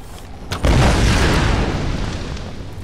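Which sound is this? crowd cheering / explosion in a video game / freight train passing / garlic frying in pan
explosion in a video game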